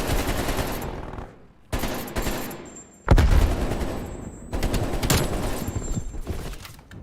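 Bursts of AK rifle fire in a video game, loud and close, coming in several dense volleys separated by brief gaps.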